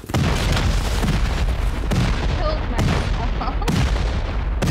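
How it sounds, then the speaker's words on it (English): A rocket is launched and explodes during a raid in a video game. Loud, continuous booming and blasts fill the clip, with sharp detonations about every second over dense rumbling gunfire-like noise. "Send a rocket in there."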